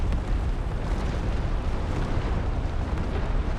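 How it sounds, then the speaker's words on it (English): Artillery cannon fire from the video game Empire hits a house, rendered as a sustained loud rumbling roar of blasts and crumbling with no break. "as soon as those shots hit the house, they tear it down"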